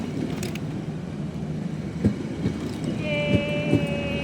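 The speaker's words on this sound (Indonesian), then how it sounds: "Seneng banget ngeliat kereta." A train passes near a station on an overnight trip to Magetan, giving a steady low rumble with a few clacking thumps and a high whistle-like tone near the end, heard close and loud.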